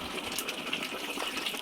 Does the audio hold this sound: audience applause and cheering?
no